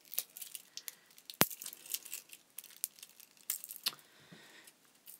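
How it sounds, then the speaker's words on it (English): Makeup packaging being unwrapped close up: scattered crinkly tearing and crumpling of plastic wrap in short irregular bursts, with one sharp snap, quiet and without talk. "I probably should have unwrapped these earlier"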